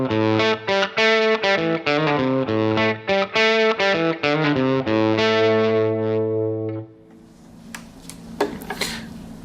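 Electric guitar through a Fender amp plays distorted, sustained chords and notes in a loud, rhythmic phrase, then rings out and stops, followed by quiet handling noise and small clicks.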